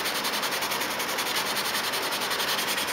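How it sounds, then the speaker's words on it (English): Filler being sanded smooth on a plastic model kit of the Seaview submarine, a continuous close scratchy rubbing with a steady rapid back-and-forth texture, loud and unbroken with no talking. "once that filler is sanded out and the edges of it are sanded smooth"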